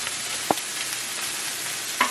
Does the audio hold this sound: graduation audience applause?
no